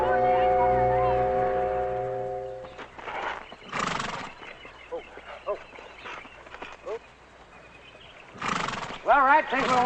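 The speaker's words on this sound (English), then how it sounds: "Beautiful horse." A horse neighs near the start, with a long high whinny layered over music, followed by hoof sounds and voices talking, and a second neigh near the end.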